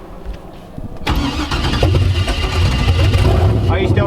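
A V8-swapped BMW E36 cranks and fires up, then runs at a loud, rough steady idle close by, with a voice talking over the engine noise.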